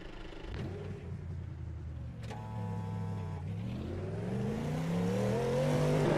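An LMDh prototype race car engine at Daytona in a racing video game revs up through rising, climbing pitches, with a brief shift partway, and grows louder toward the end.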